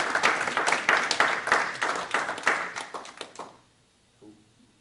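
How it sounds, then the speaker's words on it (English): An audience at a Fairfield County School District board meeting claps in a lively, crisp round that lasts about three seconds. It then stops abruptly into near silence. "let's give them a round of applause."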